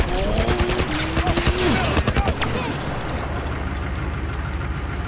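Gunfire in The Last of Us, with a dense burst of rapid shots and sharp cracks up close, followed by a fading rumble and ringing tail.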